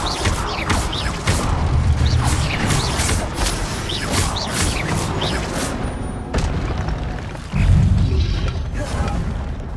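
Repeated Incendio fire spell blasts from the video game Hogwarts Legacy, booming whooshes and crashes rolling one after another with dense game combat noise throughout, loud and close.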